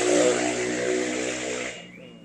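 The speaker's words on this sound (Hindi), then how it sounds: "मोटरसाइकिल जो दोपहिया है उसकी आवाज़ में से साइलेंसर निकाल कर कुछ और चीज़ें फिट करवाई जा रही है, उसका नतीजा था ये" Motorcycle with its silencer removed and a modified exhaust revving loudly: a harsh, buzzy engine roar held for about two seconds, then quickly dying away.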